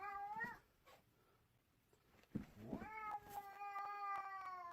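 Shiva the cat meows on the stairs, with a drawn-out yowl, a pause with a few faint knocks, then another long plaintive caterwaul, close and fairly loud.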